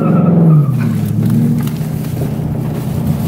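Ford Mustang GT spinning its wheels, a loud sustained tire squeal with engine roar that slides down in pitch and carries on steadily up close, with no talk.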